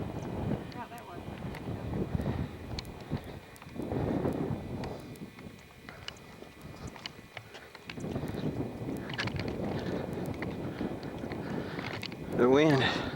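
Gusty wind buffets outdoors among rocks in New Mexico, roaring steadily against the microphone in waves. People talk and exclaim over it now and then.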